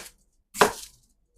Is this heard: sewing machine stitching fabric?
no